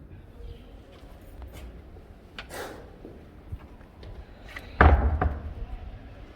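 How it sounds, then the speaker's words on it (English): A heavy door at the Gate of No Return slave fort in Ghana swings shut with one loud thud near the end, amid faint background voices and room noise. "could you just hold this from the inside out and just close the door a little for me?"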